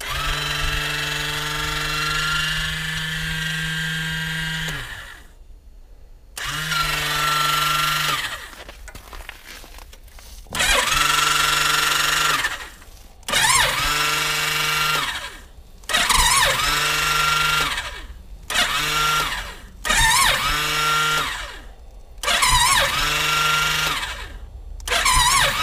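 A struggling engine starter motor whines and grinds in repeated bursts of a few seconds each, separated by short silences, loud and close, without the engine catching.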